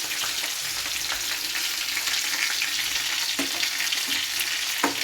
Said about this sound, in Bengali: আমি হাতা দিয়ে চেষ্টা করছি মাছ ভাজা।